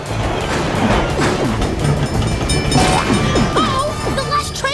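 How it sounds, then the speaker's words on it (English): A cartoon train rumbles steadily along the tracks, loud and close, with clattering, banging wheel noise and squealing metallic tones throughout, under an animated children's scene. "The train's coming through!"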